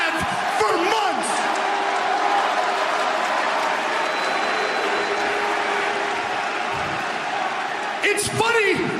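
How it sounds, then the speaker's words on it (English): A wrestling arena crowd at an AEW event fills the air with a continuous, loud wash of booing mixed with scattered clapping and cheers, someone talking briefly over the crowd noise near the start and end. "I hear boos, but I also hear clapping"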